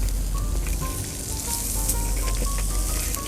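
Beef tenderloin laid over hot charcoal on a mangal grill sizzles loudly and steadily with faint pops and crackles, close up and continuous, with no talking.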